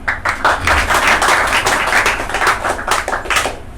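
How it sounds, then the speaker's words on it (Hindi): Loud, dense applause from an audience at a spiritual talk in Mumbai, steady clapping throughout with no pauses. "इसके जोरदार ताली दो सब लोग"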